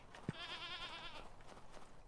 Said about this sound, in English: The goat is here.